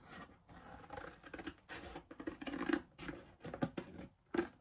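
Scissors snipping through sealed packaging flaps, a series of close, quiet irregular cuts and crinkly rustles with short pauses between snips.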